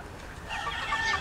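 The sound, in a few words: broodcock rooster clucking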